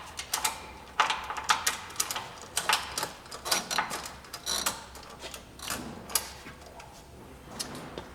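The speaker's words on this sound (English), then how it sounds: "Something we can do to help assist us in getting into these back couple is to take a ratchet strap, and we're going to grab onto the spring and pull it backwards a little bit" A ratchet strap being cranked to pull a Jeep Wrangler JK leaf spring backward, a rapid series of close, uneven mechanical clicks and ratcheting bursts.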